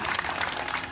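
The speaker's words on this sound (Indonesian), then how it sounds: "Luar biasa, tepuk tangan." Applause from a studio audience during a North Sumatra television news programme, a brief steady burst of many hands clapping, fairly close.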